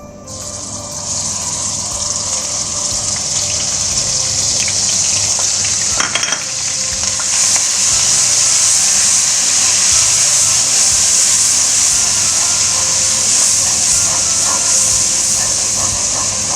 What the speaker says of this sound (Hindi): प्याज डालते हैं